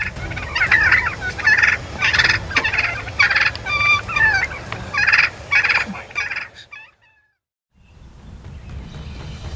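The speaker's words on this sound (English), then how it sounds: "Hunters must be clever, following tracks on the ground, observing strut marks, and listening for their distinctive calls to locate the flock." Wild turkeys gobbling loudly and repeatedly in rapid rolling bursts, a flock calling close by for several seconds before falling silent, then a low outdoor hum returns.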